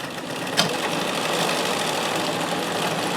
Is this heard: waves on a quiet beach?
no